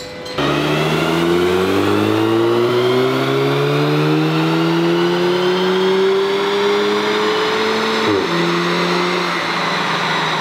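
A Stage 1 tuned Audi S3 engine pulls hard on a dynamometer, one long continuous rev climbing steadily in pitch for about eight seconds before a brief shift-like dip, loud and close with no talk.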